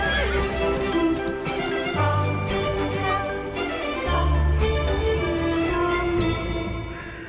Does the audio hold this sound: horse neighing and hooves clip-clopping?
yes